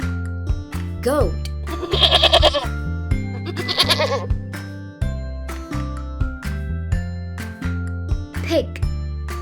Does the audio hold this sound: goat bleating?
yes